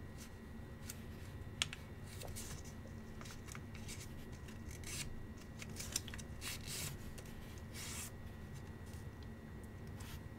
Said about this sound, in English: So just fold it upwards